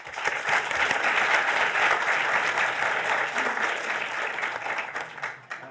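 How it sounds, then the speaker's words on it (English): Audience applause at a medicine graduation ceremony, a dense, sustained wash of many hands clapping at steady volume for the full stretch, dipping briefly near the end. "I would like to ask you for another round of applause for Adam"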